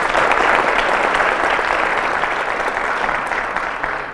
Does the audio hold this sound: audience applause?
yes